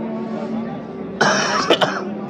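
A man coughs abruptly once, with a short second burst right after, close to the microphone. It sits on a low murmur of background sound.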